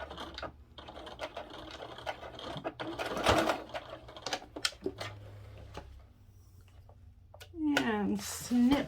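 A sewing machine stitches slowly past a snap on a fabric billfold wallet, giving short halting bursts and mechanical clicks while someone talks close by.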